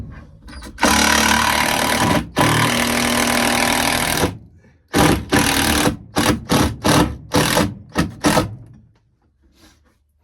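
Deck screws driven into a workbench with a power driver: two long loud whirring runs, then a rapid series of short bursts that taper off, close and harsh, with no talking.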